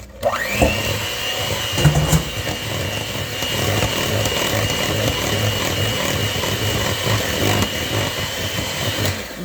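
An electric mixer whirs steadily and loudly as it blends sugar into the wet ingredients for pizzelle dough, starting with a brief knock and then holding a continuous motor hum.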